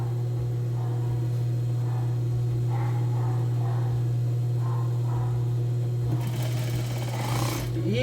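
Sewing machine stitching the seam of a women's three-quarter-sleeve shirt dress, a loud continuous motor hum with steady mechanical needle chatter, close up and running without pause.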